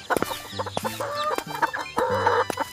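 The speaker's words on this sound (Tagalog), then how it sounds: "Minsan nagseselos na ako sa pagmamahal mo sa manok mo, Kulas" A fighting cock clucks in a quick series of short, harmonic calls broken by brief pauses, loud and close with no talking over it.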